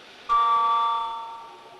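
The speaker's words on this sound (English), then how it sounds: "Here is the signal from pure water, just like the single chime of a bell slowly dying away." An MRI radio signal from pure water is rendered as a single bell-like chime that strikes suddenly, then rings with clear sustained tones that slowly fade away.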